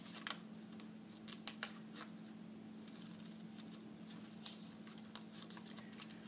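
Scissors cut out a paper illustration for a craft house: quiet, close snips and paper rustles come in irregular clusters over a steady low hum.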